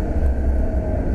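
A Porsche 997 GT3 on a track gives a brief, steady, low engine rumble, loud and close throughout.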